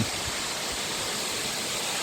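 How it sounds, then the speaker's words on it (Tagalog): A river waterfall during the dry season, a steady broadband rush of falling water heard continuously at moderate distance with no voices. "Ito yung falls."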